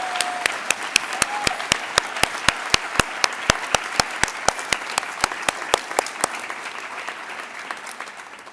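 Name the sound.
audience applause for honorees at an awards ceremony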